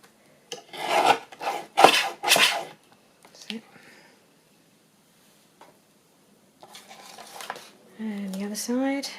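A paper trimmer tidies the edges of a handmade sewing journal with several close, rasping slicing strokes in quick succession, then a few softer cuts, with some talking near the end.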